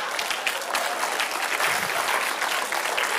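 A church congregation breaks into applause during a sermon, a short burst of moderately loud, dense clapping with no talking over it.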